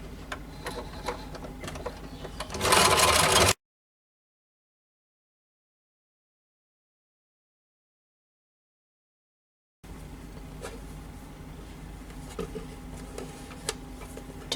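A sewing machine stitches a blouse in short rapid bursts of mechanical whirring and ticking, close and fairly quiet, broken by a stretch of silence before the stitching resumes.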